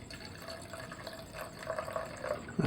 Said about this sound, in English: Cover it with distilled water.